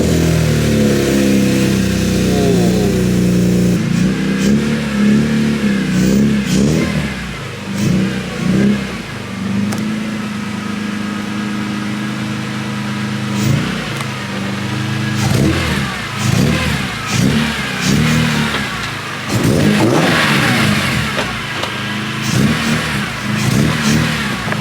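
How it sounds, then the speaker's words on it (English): A BMW E30 carrying a swapped S54 engine cranks and fires up, then blips through a series of sharp revs that rise and fall before settling toward idle, close and loud with no talk. "I'm gonna fire this car up."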